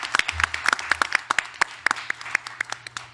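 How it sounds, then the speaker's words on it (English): A small school board meeting audience claps for award recipients, sparse distinct handclaps in an uneven rhythm, fairly close and moderately loud. "Can we have one more round of applause for our recipients at Hamby?"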